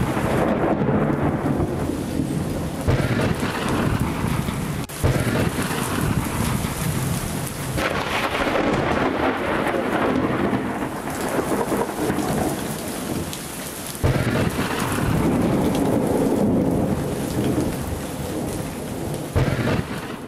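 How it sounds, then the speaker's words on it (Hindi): Heavy late-night thunderstorm in Chicago: dense, loud rain pours onto surfaces without a break while deep rolls of thunder rumble through, and the downpour swells and eases over about twenty seconds with no voices. "अमेरिका के शिकागो से बिजली कड़कने का वीडियो सामने आया है"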